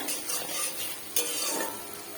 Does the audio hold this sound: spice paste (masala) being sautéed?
yes